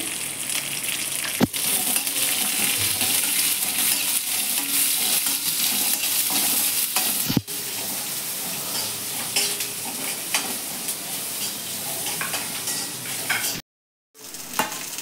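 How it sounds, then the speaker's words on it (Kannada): Cumin seeds and spices frying in a pan for tomato bath, a continuous close sizzle with metallic stirring scrapes and clinks, a sharp clatter or two, and a brief cut to silence near the end. "ಇಷ್ಟನ್ನು ಹಾಕ್ಕೊಂಡು ಸ್ವಲ್ಪ ಫ್ರೈ ಮಾಡ್ಕೋಬೇಕು. ಅರ್ಧ ಸ್ಪೂನ್ ಜೀರಿಗೆ,"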